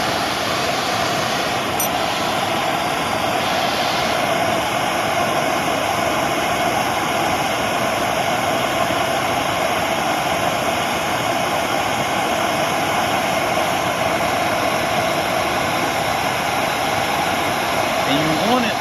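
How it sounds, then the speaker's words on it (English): A MAP gas torch opened to full flame for blackening old bolts gives a steady, loud, close-up roaring hiss that holds constant for the whole stretch, with no talking over it. "we're gonna open this MAP gas torch up all the way"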